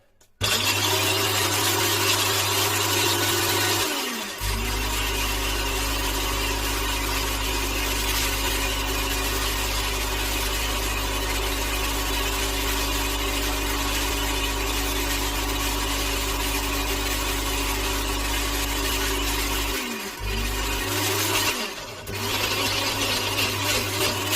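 An electric grinder runs steadily while adjika is made, giving a loud, constant motor hum and whine that dips briefly twice before carrying on, with no talking.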